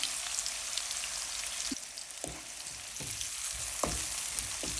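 Onions frying in a pan for a Bengali fish-head muri ghonto, a steady close sizzle with a few soft clinks of stirring, no voices.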